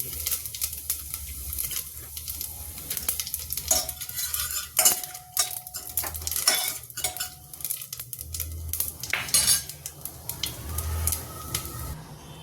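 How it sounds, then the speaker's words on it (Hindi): Asafoetida and whole spices such as cumin and bay leaf crackle in hot oil for chickpea curry, a close sizzle largely buried under repeated clatter of a metal spoon scraping and knocking against the pot. "हींग डाल दिया मैंने, और हींग के साथ ही मैंने डाले मेरे खड़े मसाले"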